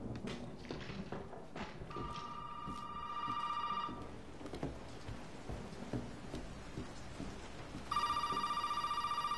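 A landline telephone rings in two electronic bursts, about two seconds each and several seconds apart, in the horror video game Resident Evil 7. Footsteps and dull thumps fill the background throughout.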